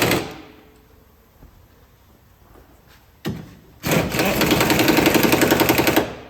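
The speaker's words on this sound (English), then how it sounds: "now I'm just going to tighten up the bottom bolts for the shocks" Bottom shock bolts being tightened on a Spec Miata: a short ratchet-like burst, then a sustained loud, rhythmic rasping of a wrench or impact tool running for about two seconds before stopping.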